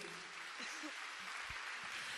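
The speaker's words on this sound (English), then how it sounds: "A round of applause, please" At a stage event, an audience applauds as a performer from Singapore is invited on stage, a soft, steady, distant-sounding wash of clapping with some crowd voices underneath.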